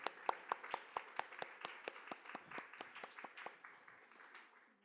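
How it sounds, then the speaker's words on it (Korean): A congregation in a church claps in a quiet, steady rhythm of separate hand claps that slowly soften and fade over a few seconds, heard from some distance. "박수로 환영해주시기 바랍니다."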